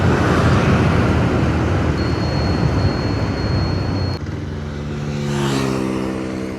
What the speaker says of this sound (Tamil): தூரத்தில் பஸ்ஸு ஒன்று போயிட்டுருக்கு, எனக்கு கொஞ்சம் தூரத்தில் பைக்கு ஒன்று போயிட்டுருக்கு